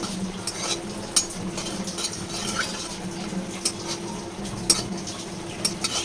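Three dry red chillies fry in hot oil until they blacken, giving a steady low sizzle with occasional sharp clinks of a utensil against the pan, close and without talk.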